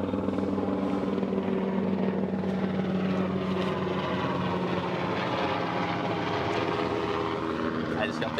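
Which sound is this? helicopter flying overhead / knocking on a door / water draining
helicopter flying overhead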